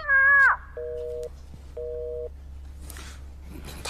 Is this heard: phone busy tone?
yes